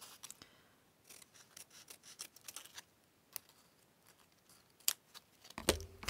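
Scissors snip through teabag paper trimmed to fit a botanical specimen slide, a quiet series of scattered cuts and rustles with a sharper clatter near the end.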